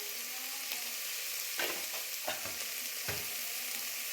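Sambar with turmeric, sambar powder and salt being mixed in a pan, soft scraping stirs and a few short spoon knocks over a steady low sizzle, close and fairly quiet, no voices.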